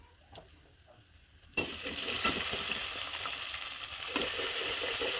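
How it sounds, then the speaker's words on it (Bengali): Ginger garlic paste hits a pan of beef and onions: a quiet stretch with a few faint clicks, then a sudden loud sizzle that keeps crackling steadily up close. "আদা রসুনটা দিয়ে দিলাম"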